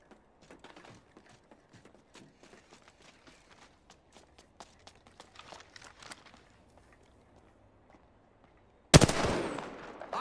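Automatic gunfire in Apex Legends shooting down a cargo bot, with rapid rhythmic bursts over about eight seconds and footsteps mixed in, then a sudden loud burst of noise near the end.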